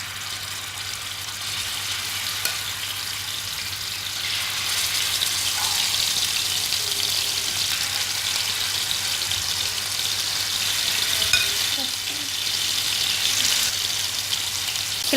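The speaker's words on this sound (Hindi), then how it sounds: "अब हम इसकी साइड चेंज करेंगे और इसको चारों तरफ से अच्छी तरह से भून के पकाएंगे।" Mutton liver frying in ghee on a hot tawa, giving a steady, even sizzle and hiss that lasts the whole stretch with no talking.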